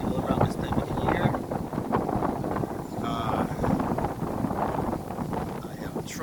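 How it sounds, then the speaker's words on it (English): Strong wind buffets the microphone up high at St. Nicholas Abbey while riding the train there, a loud, continuous rushing roar with gusty surges throughout. "So today is very windy up here"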